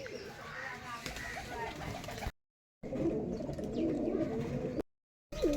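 Rajshahi Giribaz pigeons coo steadily in a close, busy loft, their low repeated calls layered with other birds and broken by two brief silent gaps.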